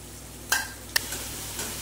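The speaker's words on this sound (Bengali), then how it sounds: "আমার এই মশলাটা প্রায় ভাজা হয়ে এসছে" Spice paste of cumin and coriander frying with cooked-down tomato in a pan for navratan korma, a soft steady sizzle broken by two sharp scraping stirs and a fainter third one.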